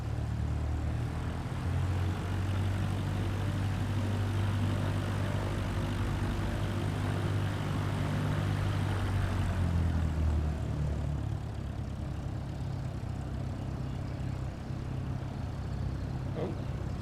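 A Cessna propeller engine in Microsoft Flight Simulator 2024 drones steadily and loudly with a low rumble for most of the clip, easing to a slightly lower level near the end.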